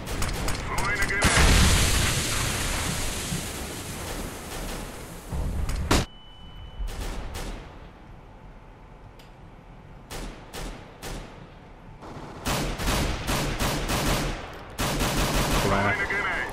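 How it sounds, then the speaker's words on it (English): Bursts of rifle fire and booming grenade blasts from a CS GO match, loud and close, coming in dense volleys separated by quieter stretches, with a player talking at times between them. "Throw in a grenade!"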